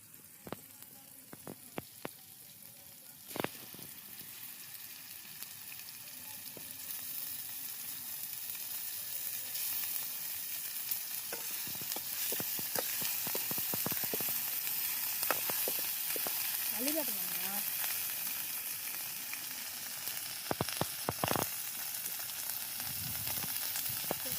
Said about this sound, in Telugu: అల్లం వెల్లుల్లి పేస్ట్ అయితే వేసుకొని పచ్చివాసన పోయేదాకా వేయించుకుందాం